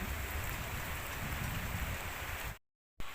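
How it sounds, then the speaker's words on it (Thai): Steady, dense rain pours down for a few seconds, then cuts off abruptly into silence before a brief return. "ฝนตกแห้งบ่แห้ง"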